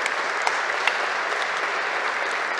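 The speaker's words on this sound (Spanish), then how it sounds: "Jorge Bermúdez, para quien les pido nuevamente un fuerte aplauso" An audience at a tribute ceremony applauds steadily, a dense wash of many hands clapping at moderate volume with no voices over it.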